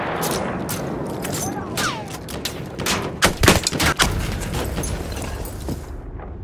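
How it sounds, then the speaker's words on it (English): An enemy machine gun fires in Battlefield 1 on the Somme River map, with short rattling bursts and sharp cracks clustering in the middle of a noisy wartime soundscape, fairly close and loud. "Enemy machine gun under there!"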